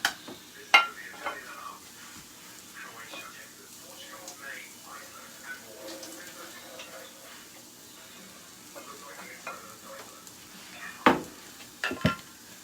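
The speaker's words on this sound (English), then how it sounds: "Finish grinding that baby up with our nice mix and chop." Ground meat broken up in a pan with a mix-and-chop tool after microwaving and draining, for Tex Mex stuffed peppers: soft scraping, stirring and faint sizzle under a talking voice, with a few sharp clinks against the pan.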